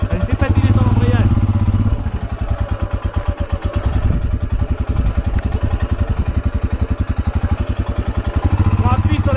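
A motorcycle labours in first gear with a slipping clutch on a hard, rough mountain track in Ladakh, India. The engine throbs and clatters loudly and close in a fast rhythmic pulse, with voices heard over it.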